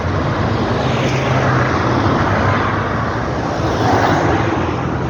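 Dense rush-hour traffic rolls along a main road in a steady, loud wash of engines and tyre noise, with no single vehicle standing out and no voices.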